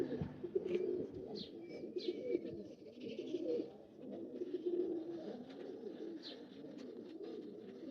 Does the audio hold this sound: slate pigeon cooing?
yes